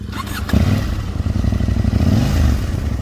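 A Husqvarna Norden 901 adventure motorcycle rides off-road in off-road mode, its engine a loud, steady rumble close by with some clatter, without talk.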